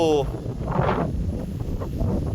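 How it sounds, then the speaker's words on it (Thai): Strong wind blowing across a foggy mountain cliff at Pha Hua Nak in Chaiyaphum, a steady rushing roar with heavy microphone buffeting throughout, and a voice speaking over it. "ดูดูฟังเสียงลมเอาก็แล้วกัน"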